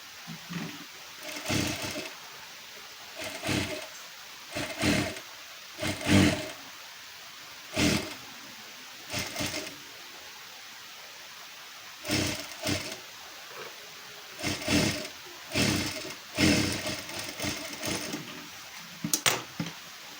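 A domestic sewing machine stitches a double seam on a one-piece dress lining in short repeated bursts, each a loud whirring run of a second or so separated by pauses, with no talking.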